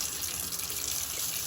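Tap water runs steadily over a clogged filter to rinse carbon off it, a close, continuous splashing gush with no talk.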